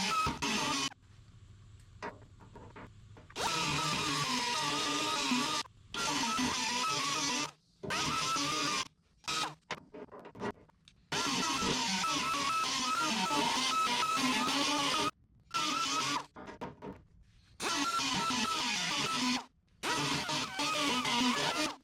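A power grinder cuts a notch into the tailgate of a 1947–53 Chevy truck, running in loud, harsh bursts separated by short pauses, with no voices.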